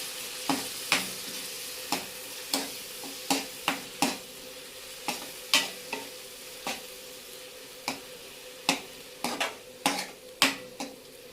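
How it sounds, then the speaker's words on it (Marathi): Cluster bean masala is stir-fried in oil, with a constant close sizzle broken by repeated sharp spatula scrapes and knocks against the pan at an irregular, busy rhythm. "याच्यामध्ये आपण हे तेल सुटेपर्यंत चांगलं परतून घेऊया."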